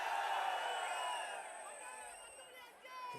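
Large political rally crowd in Arcot cheering and roaring, a broad steady wall of distant voices with whistles and tones over it, fading slightly toward the end.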